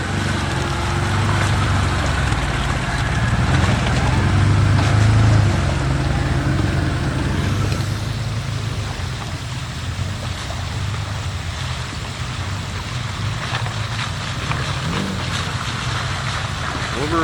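A Wolverine off-road vehicle drives at Rush Springs on New Year's Eve, its engine a continuous rumbling drone with rough, jolting noise over the terrain and voices partly audible over it.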